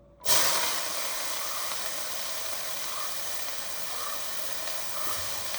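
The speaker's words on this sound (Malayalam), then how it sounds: "കുറച്ച് ഓയിൽ വലിയ സവാളയും പച്ചമുളകും ഇട്ട് കൊടുക്കാം" Large onions and green chillies dropped into hot oil for a fried egg dish, a sudden loud hiss that settles into a steady, even sizzle, close and alone.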